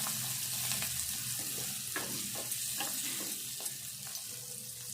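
Chopped onions frying in a pan with a steady, close sizzle, broken by a few soft scrapes of stirring over the continuous hiss.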